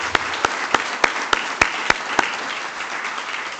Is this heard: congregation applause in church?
yes